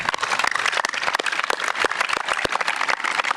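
A crowd at an Out of the Darkness charity walk claps for fraternity and sorority chapters, a dense and steady round of applause, close and lively with no clear speech.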